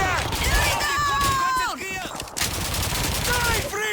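Gunfire in the World War II video game Call of Duty 2, Eastern Front defense of Moscow, rattles in dense bursts over shouted voices and swooping whistles from the battle.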